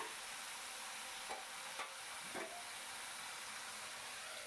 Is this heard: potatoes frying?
yes